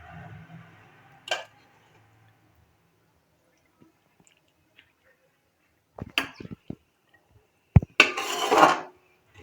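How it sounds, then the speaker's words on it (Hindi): Cooked chicken is served into a dish in a home kitchen: a scrape and a few clinks of a spoon against a pot and plate in short bursts, with a final rustling, clattering scoop, otherwise quiet. "अब मैं आपको डिश आउट करके"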